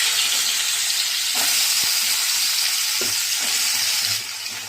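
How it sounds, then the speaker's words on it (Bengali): Pumpkin frying in oil tempered with kalo jeera, a loud, constant sizzle with a few soft stirring clicks, then easing slightly at the end. "কুমড়োটা ভাজবো।"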